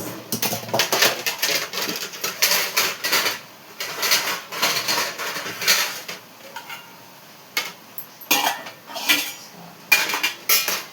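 Pot lids being handled over a pot of cooked rice, a rapid series of close metallic clanks and rattles in bursts, loud and sharp, with short pauses between.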